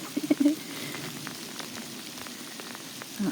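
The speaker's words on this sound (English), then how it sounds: "If you can't tell, that's hail." Hail falls outdoors in a dense, steady patter of small hits, with a few louder knocks near the start and end.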